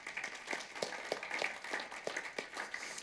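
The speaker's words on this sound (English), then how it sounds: "So let's give him a round of applause." A round of applause from an event audience, soft and somewhat distant, a dense patter of many hands clapping steadily for about three seconds with no talk over it.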